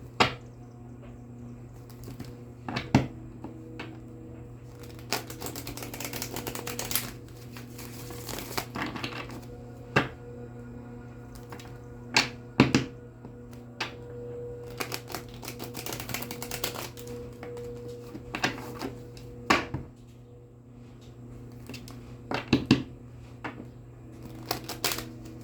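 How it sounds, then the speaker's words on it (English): Rider-Waite tarot cards being shuffled by hand, with soft papery riffles and crinkling bursts recurring every few seconds over a steady low hum, close and fairly quiet, no talking. "Let me get you some good shuffles in"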